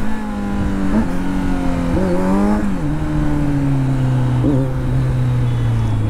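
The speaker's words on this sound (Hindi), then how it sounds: "ये चेकआउट करो गाइस, क्या साउंड आउट आ रहा है बाइक का, सुपर।" A Kawasaki Z900 motorcycle's engine and exhaust drone loudly and close while riding, rising in several quick revving bursts before holding a steady, slowly falling tone.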